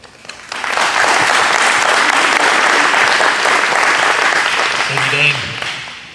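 An audience at a city council candidate forum breaks into loud, sustained applause that holds steady for several seconds before tapering off, with a brief voice at the end.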